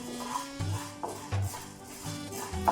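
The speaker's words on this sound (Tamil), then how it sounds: "இப்போ ஓரளவுக்கு உளுந்து வறுப்பட்டிருக்கு." Urad dal being dry-roasted in a pan, with soft scraping stir strokes and low sizzle repeating every half second or so while a spoon or spatula drags across the grains, close and fairly quiet.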